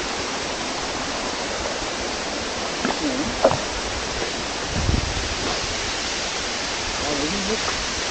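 Steady broadband rush of Bad Branch Falls, a Georgia waterfall spilling over carved rock, fills the scene close and continuous, with a few brief voices and knocks over the constant water noise.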